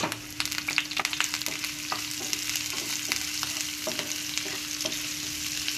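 Chopped onion with cumin and slit green chillies fries in a pan, giving a steady sizzle broken by repeated scraping stirs, close and fairly loud.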